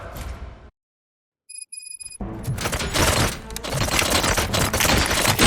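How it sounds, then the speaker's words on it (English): Rapid bursts of gunfire from the RoboCop: Rogue City video game, a dense loud fusillade of shots that erupts after a brief silence and a few electronic tones, continuing steadily to the end. "Gunshots? What's going on?"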